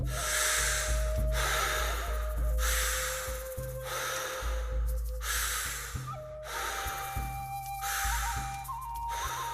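Rhythmic breathwork breathing, repeated strong inhales and exhales in a steady paced cycle, close and loud over a sustained droning music bed.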